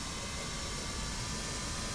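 Embraer Phenom 300 business jet starting to taxi, a faint, steady turbine whine and broadband hum heard from inside, constant with no distinct events.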